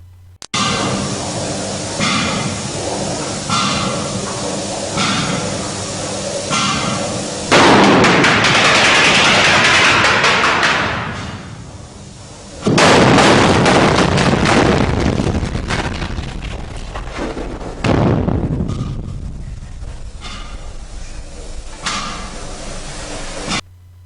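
Explosive blasts set off by a blasting initiation system: a run of loud, crackling detonation bursts, some short and some long roaring ones, separated by brief gaps with rumbling decays, and no speech.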